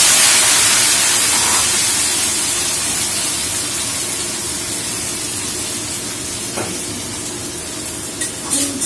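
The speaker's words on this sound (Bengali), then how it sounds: "তেল গরম হয়ে গেছে, আমি সর্ষে দিলাম, কারি পাতা, এবারে দেবো আমি ফুলকপি আলু।" Cauliflower and potato fry in hot oil with mustard seeds and curry leaves, a loud, dense sizzling hiss that slowly eases, with a few clinks of a spoon toward the end.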